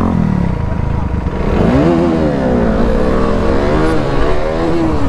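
A Yamaha R15 motorcycle revs hard off-road for a wheelie, its engine pitch climbing and wavering in loud, close bursts over a steady rumble, with voices faintly present.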